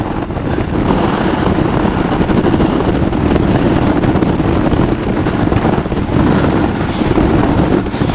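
A Sub 70 flexwing microlight engine idles on approach, a loud, steady propeller drone with wind rush that holds throughout. No one speaks.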